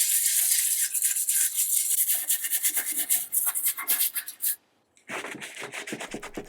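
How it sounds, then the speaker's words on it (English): Nylon brush scrubbing old finish off a damaged wooden chair, close and steady: rapid repeated rasping strokes, a brief pause near the end, then the scrubbing resumes. "I'm gonna use this nylon brush for these bits, just so I can get in there."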